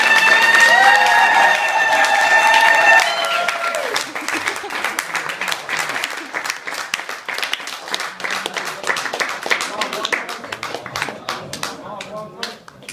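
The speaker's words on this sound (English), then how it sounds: "Round of applause." A crowd at a Katb al-Kitab marriage ceremony applauds loudly over music, the clapping continuing steadily and gradually thinning out toward the end.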